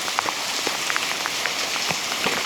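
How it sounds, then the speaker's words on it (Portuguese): Rain falls against the wall of a house, a steady close hiss scattered with individual drops tapping irregularly throughout. "Chuva."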